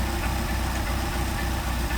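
A Mercedes 190SL engine with Solex carburetors idles close by, a steady, even low rumble with a slight rhythmic pulse that holds unbroken throughout, with no voices.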